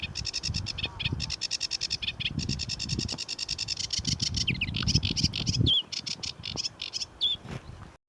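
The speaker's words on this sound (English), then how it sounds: "The sedge warbler's call is a mix of chattering, jerky notes and phrases." A sedge warbler sings up close, a rapid run of chattering, jerky notes and scratchy phrases repeating almost without pause, over a lower patchy rustle of background noise.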